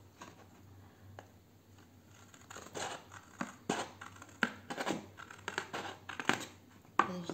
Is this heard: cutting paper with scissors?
yes